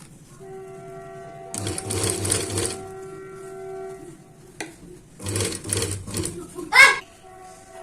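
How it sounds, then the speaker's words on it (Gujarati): Sewing machine stitching a shirt collar in two short bursts, close and clear, with a quiet steady hum and some background noise between runs. "જે આ ભાગ આવે છે ત્યાં સુધી આપણે સિલાઈ લઈ લેવાની છે"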